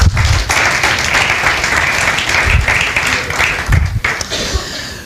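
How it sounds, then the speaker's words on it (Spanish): A conference audience applauds loudly and continuously for several seconds, a dense wash of clapping that thins slightly toward the end. "Y un aplauso."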